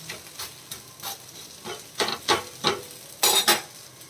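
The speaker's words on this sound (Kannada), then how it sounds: "ನೋಡಿ, ಮಗ್ಚಿ ಹಾಕ್ತಾ ಇದ್ದೇನೆ." Cucumber rava dosa cooking on a pan on a low flame, with a few light scraping and flipping taps and soft sizzling coming in short bursts close by.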